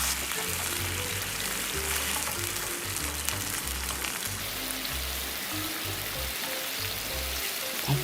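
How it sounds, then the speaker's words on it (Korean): Seasoning sauce simmers with browned sliced onions in a pan, a steady soft sizzle and bubbling hiss holding at low, even loudness throughout, with no talking over it. "노릇노릇해지면 양념장을 넣고 졸여줍니다."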